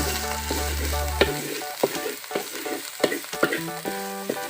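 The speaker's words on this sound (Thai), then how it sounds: "แกงให้มันหอมหอมนะครับผัดให้มันหอมหอม" Spicy eel being stir-fried in a pan, with a steady sizzle and repeated scraping and clanking of a utensil against the pan, loud and close, while a low musical hum plays under the first second.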